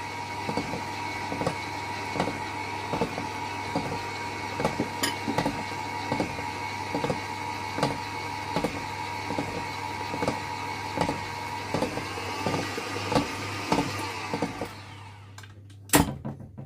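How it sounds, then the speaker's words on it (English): Electric hand mixer whirring steadily as it beats crystallized sugar with margarine for a cake batter, with a gritty scraping and regular rhythmic ticks of the beaters against the bowl, close and continuous before stopping near the end with a final clunk. "you hear in the mixer is the sound of the crusty sugar"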